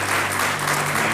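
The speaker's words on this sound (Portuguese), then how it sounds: "Um aplauso para a Andreia." Studio audience on a Portuguese TV talk show applauding a guest, a dense, loud, continuous round of clapping with no talk over it.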